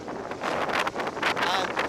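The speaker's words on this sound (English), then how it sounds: "we got a windy day today" Steady wind on Lake Michigan buffeting the microphone from a jon boat, a continuous broadband rush with gusty swells, loud and close throughout.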